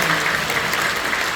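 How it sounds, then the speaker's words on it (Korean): Warm applause from a church congregation welcoming newcomers during a Sunday worship service, a dense, even roar of many clapping hands, loud and sustained. "여러분들 뜨거운 박수로 환영해 주시기 바랍니다"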